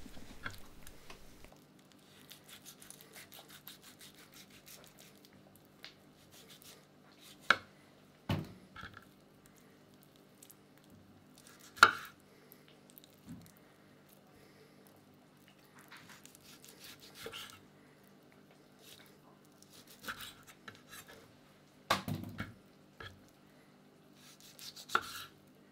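A knife chops veal kidneys into bite-size pieces on a board, sparse sharp knocks scattered through long quiet stretches with faint soft handling between them.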